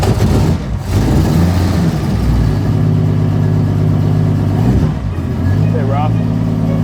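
A vintage Delahaye 135 CS, the short competition sport model, runs rough and cold with a steady mid-pitched engine note, revving briefly near the end while someone talks over it.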